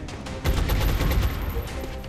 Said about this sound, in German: aber hier vorne, den können wir doch schon mal wegschroten